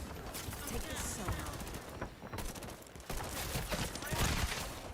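Rapid gunfire in the shooter game Highguard, dense bursts and clattering shots over about five seconds with a brief lull, mixed with game effects and a voice talking over it.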